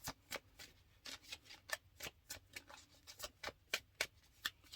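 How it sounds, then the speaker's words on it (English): A deck of tarot cards is shuffled over and over, giving a quick, regular run of crisp riffling snaps close by, with no talking. "Shuffled like 100 times."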